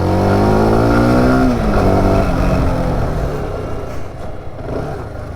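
A SYM VF185 small manual-shift motorcycle with an 18-horsepower engine revs loudly and close, its tone climbing as it accelerates, then easing off and fading into a lower, rougher drone.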